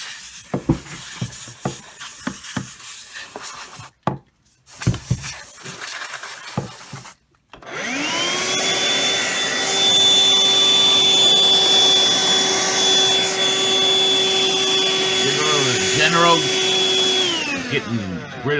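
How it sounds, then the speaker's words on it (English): Dust is cleaned out of the CPU cooler fins of a desktop computer, starting with scattered brushing and rubbing noises, then a loud, steady motorized whine that runs for about ten seconds before cutting off. "Dusting out the fins of the CPU cooler."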